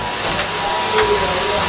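An industrial stitching machine sews laces onto shoes in a Kolkata shoe factory, making a steady high whirring hum broken by a few sharp clicks.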